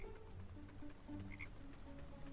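Frogs croak in the video game Spirit of the Island, a layered chorus of low, repeated calls sounding close and steady throughout, with no voices.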